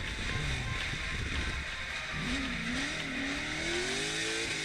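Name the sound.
race car drifting at high speed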